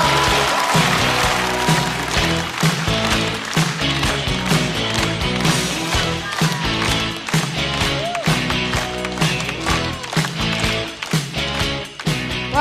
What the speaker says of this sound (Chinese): 让我们掌声欢迎秋月